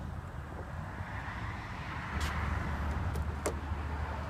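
A BMW X6 xDrive35i power tailgate closes at the push of a button: a steady electric motor hum rises midway, with a few sharp clicks and a latching clunk near the end, close by and without talk.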